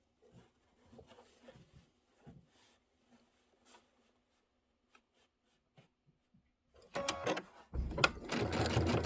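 A sewing machine runs a short back stitch to lock a seam while piecing a quilted table topper, a quick loud burst of rapid needle chatter after scattered soft handling sounds and near silence.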